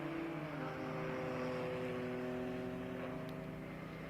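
An Audi S4 race car passes on the track during an endurance race at Pärnu, its engine a steady, loud, sustained tone that holds level throughout with no voices.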